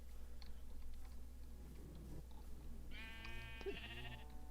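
A video game sheep bleats once near the end over a steady low hum and soft background noise, with a faint wavering harmonic call.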